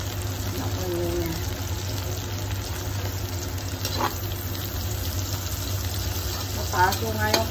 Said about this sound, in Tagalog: Then, we will put the onion.